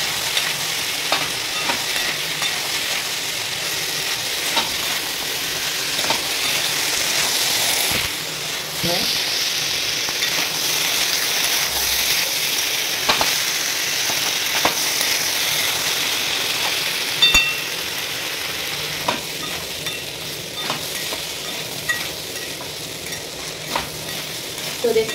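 Food sizzles steadily in a pan while salt is mixed in, with occasional stirring scrapes and clinks over a constant frying hiss.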